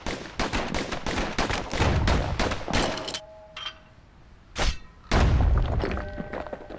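Dual slinger pistols firing in Bastion, a fast volley of loud, close sharp shots, then a short pause and a single blast before another rapid burst resumes.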